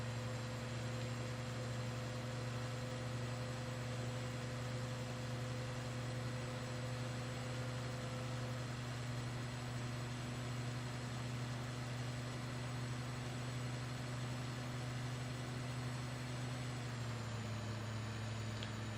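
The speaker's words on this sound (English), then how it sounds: "This tractor's pretty dang fast" A tractor engine drones steadily in Farming Simulator 2013 with a realism mod, a constant low hum with faint whine that drops slightly near the end, no voices.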